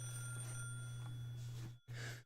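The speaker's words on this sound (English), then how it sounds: "The phone continued to ring." Telephone ringing in a quiet room, a steady electronic tone held continuously, briefly stopping and then resuming near the end.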